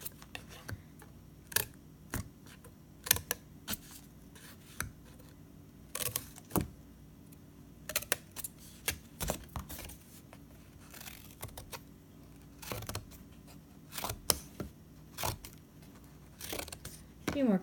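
Scissors snip a row of small notches into a sewing pattern, producing sharp, crisp clicks in quick irregular bursts over a quiet background hum, with occasional soft speech in between.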